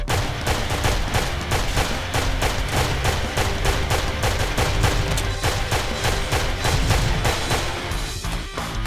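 Relentless gunfire in Intrusion 2: rapid, evenly spaced shots hammer on for the whole stretch, loud and close, with no talking over them.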